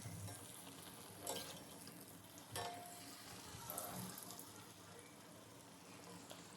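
Sugar athirasam dough deep-frying in hot oil over a high flame, a steady faint crackling sizzle with a few sharper bubbling bursts, quiet and close, no talking.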